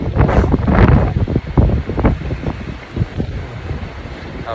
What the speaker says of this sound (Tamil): பயங்கரமாக காற்றடிக்குதா, தலை கண்ணா பின்னான்னு போயிடுது.